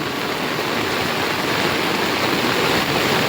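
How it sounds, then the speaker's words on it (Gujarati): A river swollen by heavy rain rushes past in a dense, steady roar of churning water, loud and unbroken with no voices. "ફૂલ નદી તણાણ કરે છે"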